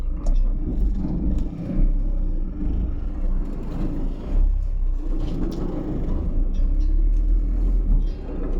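A Porter goods vehicle is being reversed in Bangalore, giving a low, steady engine rumble and whir that swells and fades slightly throughout, fairly loud and close.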